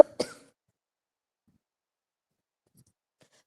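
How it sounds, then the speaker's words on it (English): A single short cough, close and sharp, followed by near silence. "I have cough."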